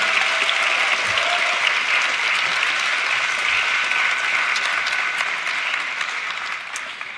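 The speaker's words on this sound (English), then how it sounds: "would you give a round of applause to those who have supported you?" A graduation commencement crowd at Bushnell University applauds its supporters with sustained, dense clapping that stays loud and steady throughout, with no talking over it.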